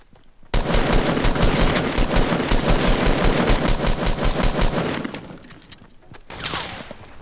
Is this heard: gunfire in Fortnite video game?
yes